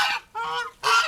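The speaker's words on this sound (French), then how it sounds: "Donc, voilà les oies." Three loud, close goose honks in quick succession, harsh and nasal, with no other sound around them.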